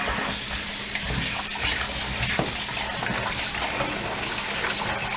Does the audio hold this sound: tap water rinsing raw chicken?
yes